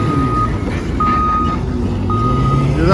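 Reversing truck at the NH66 underpass in Randathani, Malappuram, sounding three evenly spaced backup beeps over a rumbling engine, with the engine note rising slightly toward the end.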